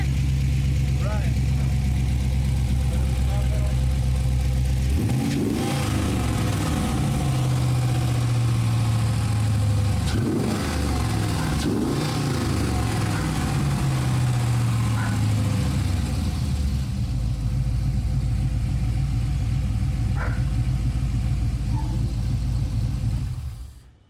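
An LS-swapped V8 in a '79 Impala wagon with four mufflers idles with a steady deep rumble and rises in several revs, loud and close, with a voice speaking briefly.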